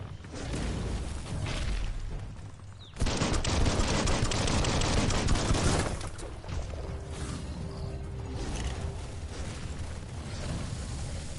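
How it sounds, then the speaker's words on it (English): Dense gunfire in Biomutant on PS5 comes in sustained bursts, loudest in a heavy volley midway, then continuing more thinly, close and without speech. "Bullets everywhere."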